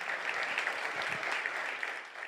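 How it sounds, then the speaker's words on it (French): An awards-ceremony audience applauds the youth emerging-talent category finalists, a steady, dense wash of clapping from many hands that holds evenly for a couple of seconds before tapering slightly. "je vous inviterai à applaudir nos finalistes de la catégorie Jeunes Émergence"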